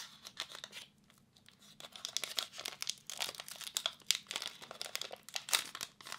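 Crinkly foil booster packs of Pokemon Evolutions cards being torn open and crumpled up close, a steady run of sharp rips and crackles with a short quiet pause near the start.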